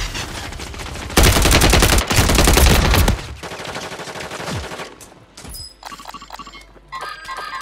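Loud rapid automatic gunfire in an online battle royale shooter game erupts in sustained bursts, then gives way to scattered shots and game effects, with no voices.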